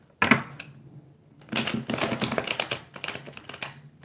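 A deck of tarot cards is shuffled in quick riffling bursts, crisp and close, with brief pauses between passes and no talking.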